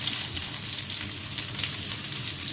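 Chopped onion sizzling and spattering in hot olive oil for bitter gourd with eggs, a dense, even hiss of frying that holds steady and close throughout, with no voices.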